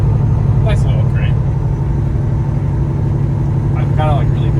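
A slammed custom Peterbilt 389 with a chrome wrap is driven, its steady low diesel engine drone rolling on loudly under a few brief chirps and a man's speech.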